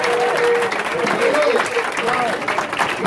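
A church congregation applauds and cheers to acclaim Jesus during a prophet's teaching, a dense steady wash of clapping with voices rising over it and a few singing or shouting tones throughout.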